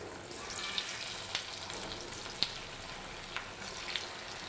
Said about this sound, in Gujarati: તો હવે આપણું તેલ ગરમ થઈ ગયું છે હવે આપણે વડીને તળી લઈશું